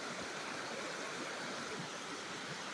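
A woodland trout stream flowing, a soft continuous wash of running water, fairly faint and even, with no talking.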